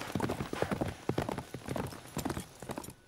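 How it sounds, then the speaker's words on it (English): A rider's horse arrives with a brisk clip-clop of hooves on hard ground, close and rhythmic, with no talking over the steps. "Ford came riding into the yard, his horse covered with foam"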